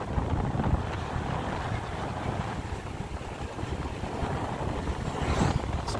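Strong wind roars steadily across the microphone as a vehicle travels a long road past houses, a constant loud rushing with no gaps.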